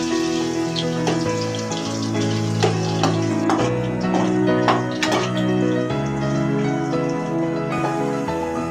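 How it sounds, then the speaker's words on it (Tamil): Potato strips for French fries deep-fry in hot oil, crackling and sizzling steadily with scattered sharp pops and spatters. The sound is close and loud, and no one speaks. "உருளைக்கிழங்கு வந்து நமக்கு ஃப்ரெஞ்ச் ஃப்ரை செய்கிற அளவுக்கு நல்லா பொரிஞ்சு வந்துருச்சு"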